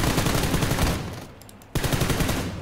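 Rapid automatic gunfire in PUBG Lite, loud and close, with a steady rattling rhythm that eases briefly and then resumes abruptly with a sharp burst.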